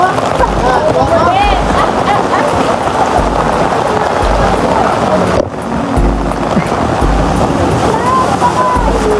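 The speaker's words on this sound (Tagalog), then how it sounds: "sobrang taas ng alon" High sea waves crash against a rocky shore in a steady, loud, broadband wash of churning surf, with voices faintly audible under the water noise.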